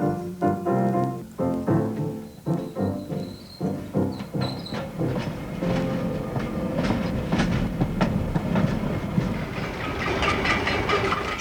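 A 1969 Freightliner freight train rumbles past on the rails leaving Harwich, with rhythmic clacking of wheels over joints giving way to a steady, loud roar of rolling cars.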